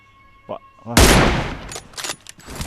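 Gunfire in an online shooting video game: a short faint tone, then a loud sudden burst of shots that decays into several further rapid shots at close range.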